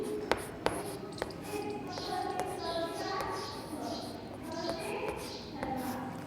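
Chalk tapping and scratching on a classroom blackboard as a teacher writes for a second-grade Hindi lesson, with short sharp taps amid a soft murmur of children in the room.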